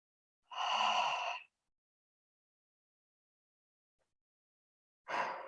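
Deep breathing through the nose in a breathing exercise, likened to Darth Vader: one long rasping breath of about a second, then a long silent hold, then another breath beginning at the end, close and alone.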